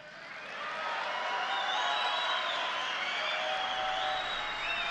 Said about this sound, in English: I want to be sure to have you hear the audience cheering